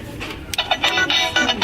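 Electronic jingle from a toy market playset, with bright, beeping, ringtone-like notes that pulse and repeat steadily for under two seconds, fairly close and alone.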